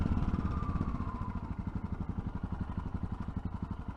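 Yamaha Tenere 660 motorcycle engine running at a steady throb while riding, with a fast, even pulsing beat that is loud and close throughout.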